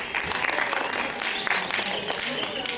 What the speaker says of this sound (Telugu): ఎంతో చక్కగా తన ప్రదర్శనను చూపించిన డి పల్లవికి గట్టిగా చప్పట్లు